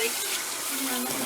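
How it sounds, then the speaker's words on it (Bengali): Water splashes into a pan of fried spice paste for a rohu fish curry, a brief, close gushing rush with a hissing edge lasting about a second. "জল দিয়ে দিলাম"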